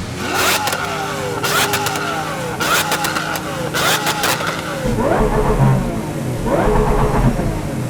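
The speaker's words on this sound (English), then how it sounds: "I'm going to give it some revs. Valves are open on my Gintani exhaust." Car engine with an open-valve Gintani exhaust revving hard: repeated sharp rev blips rising and falling in quick succession, very loud and close, ending in a steadier rumble with further throttle stabs.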